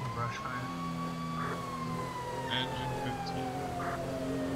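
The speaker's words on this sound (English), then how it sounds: "a lot of engines and stuff right now are arriving at the brush fire" Fire engine sirens in a video game, arriving at a brush fire: steady, wailing siren tones that slowly fall in pitch, continuous throughout with engine rumble underneath and occasional faint sounds on top.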